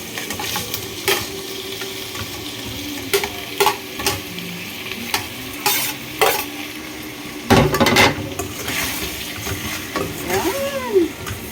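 Isaw, pig intestine, sizzling in a pan as it is stirred, with steady frying hiss and repeated scrapes and clinks of a utensil against the pan, close and clear with no talk.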